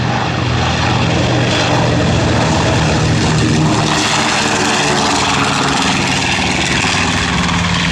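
A B-25 bomber named Panchito rolls down the runway and lifts off, its twin propeller engines roaring loud and steady throughout, a dense continuous drone with no pauses.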